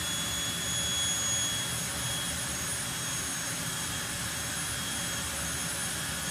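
A turbine-powered drag racing car at Santa Pod Raceway runs with its turbine pressure raised, giving a loud, continuous jet-like roar and high whine that holds steady throughout.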